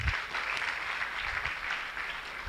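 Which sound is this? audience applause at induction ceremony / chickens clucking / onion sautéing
audience applause at induction ceremony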